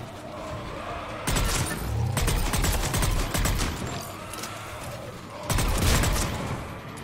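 Mass Effect 3 combat: bursts of rapid gunfire crackle in loud, dense volleys, starting abruptly, thinning, then surging again near the end, close and sharp with little talk.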